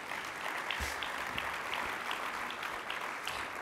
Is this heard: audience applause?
yes